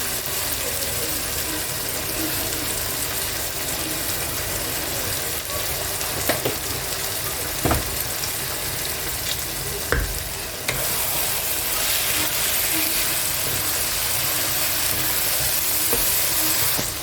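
Chicken being sautéed for dopiaza in a pan, sizzling steadily in oil and close up, with the occasional scrape and knock of a stirring spoon.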